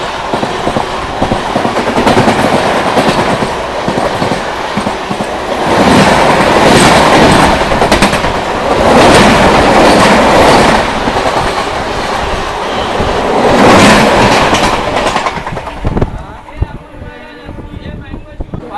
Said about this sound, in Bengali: আমার ট্রেন ছেড়ে দিল মথুরাপুর রেলওয়ে স্টেশন থেকে